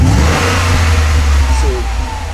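A Ford car engine revs steadily in the background of an interview at a motorsport event, a continuous loud low rumble throughout, with a faint voice briefly audible.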